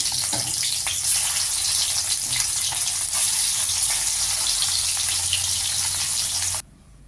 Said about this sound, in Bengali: তেল গরম হয়ে গেলে মাছগুলি ভেজে নেব। এক এক করে মাছগুলি দিয়ে দিচ্ছি।